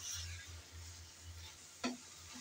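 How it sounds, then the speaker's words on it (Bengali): Banana stem curry is stirred in a frying pan, giving a faint scraping and soft sizzle with one brief clink of the spoon against the pan near the end, quiet and close. "আমি আবারও তিন চার মিনিট পর এসে একটু নাড়িয়ে দিচ্ছি।"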